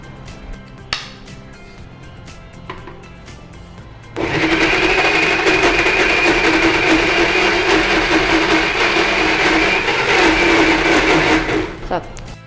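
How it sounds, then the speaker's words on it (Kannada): A kitchen mixer grinder (mixie) whirs loudly and steadily for about seven seconds while grinding rava dosa batter, starting abruptly after quiet talk and cutting off near the end, with voices faintly heard around it. "ಒಂದು ಮಿಕ್ಸಿ ನೈಸ್ ಆಗಬೇಕು."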